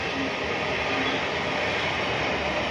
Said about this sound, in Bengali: দেখো ট্রেন যাচ্ছে